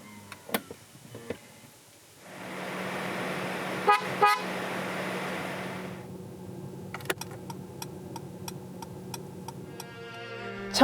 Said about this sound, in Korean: 새로운 S클래스가 어떤 체감적인 소리를 들려주는지 들어볼까요